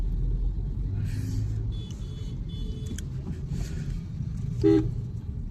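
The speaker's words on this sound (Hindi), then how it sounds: "भाई कितना ट्रैफिक हो रहा है भाई, बहुत ट्रैफिक है, ट्रैफिक ही ट्रैफिक है भाई, कितना ट्रैफिक है" Heavy road traffic rumbles steadily close by, with several brief car horn toots rising over the dense engine noise.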